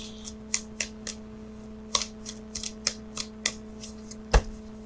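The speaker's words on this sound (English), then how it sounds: "So what I'm doing now is I'm shuffling for the outcome card." Tarot cards are shuffled in short, irregular bursts of crisp riffling snaps, close by, over a faint steady hum.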